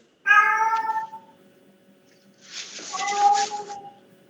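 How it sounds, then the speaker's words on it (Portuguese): A kitten meows clearly twice indoors, a sharp nearby meow followed by a longer, rougher one, with faint voices in the background. "De quem é o gatinho?"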